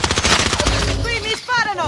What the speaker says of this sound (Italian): Qui mi sparano!